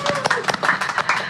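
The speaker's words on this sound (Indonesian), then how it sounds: "Tepuk tangan dulu." Brief rhythmic hand clapping in a small podcast studio, several quick claps close to the microphone.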